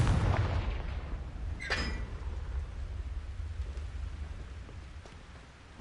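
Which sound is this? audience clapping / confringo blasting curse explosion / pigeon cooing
confringo blasting curse explosion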